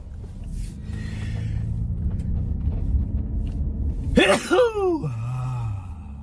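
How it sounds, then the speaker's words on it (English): A single loud, close sneeze bursts out over a low background rumble, followed by a falling groan-like exhale. "I'm gonna sneeze yet again"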